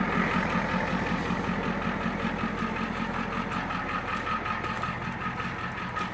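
An old dump truck's engine runs at a steady idle, a close, continuous low rumble with a throbbing pulse and no clear changes in revs, heard alone without talking.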